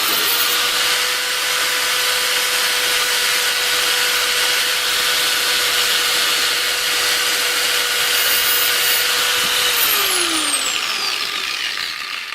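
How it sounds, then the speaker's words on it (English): A Harbor Freight Bandfile belt sander runs steadily at close range, a loud continuous whirring whine that holds at full speed for several seconds before its pitch drops slightly near the end. "It's a sander."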